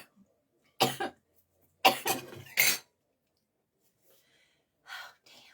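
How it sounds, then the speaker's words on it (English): Several dry, close coughs from someone who inhaled pepper powder while eating fudge, in short bursts, a single one, then a quick cluster of three, and a softer one after a quiet pause. "I should have drank water. I'm already coughing."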